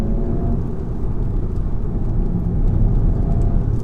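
VW Golf GTI engine heard from inside the car while driving, a steady, fairly loud, peppy, higher-pitched hum with a low rumble throughout and no talk.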